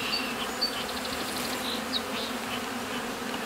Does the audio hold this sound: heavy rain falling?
no